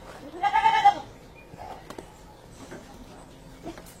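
A goat lets out one loud, wavering bleat early on, followed by quieter rustling, faint clicks and distant background sounds.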